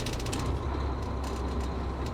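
An old Volvo VNL semi truck with about 814,000 miles, bought from a scrapyard, has its brakes releasing as the wheels begin to turn, giving a loud steady mechanical grinding and ratcheting rumble up close.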